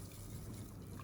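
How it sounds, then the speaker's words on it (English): Hot water is poured onto matcha tea in a faint, continuous trickle lasting about a second. "Just pour in a little bit of hot water"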